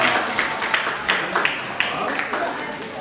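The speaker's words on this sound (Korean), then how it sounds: "우리 박수 한번 쳐줍시다" Scattered applause from a small group of young children at a church service, a few seconds of steady clapping with occasional louder claps.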